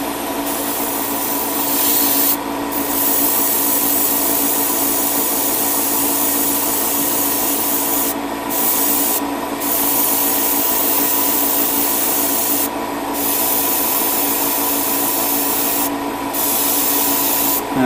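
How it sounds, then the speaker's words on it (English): Spray primer hisses from a can onto Gundam model kit parts such as the torso: long, steady, close bursts of broadband spray broken by several brief pauses, with no talking. "I'm in the midst of priming these parts right now"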